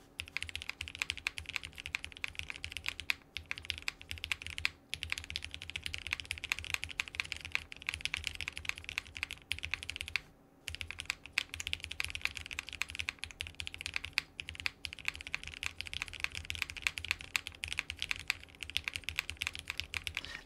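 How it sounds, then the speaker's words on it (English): Continuous rapid typing on a quiet mechanical keyboard, close up, with a few short pauses between bursts of clacking keys. "It is a little bit of a quieter keyboard."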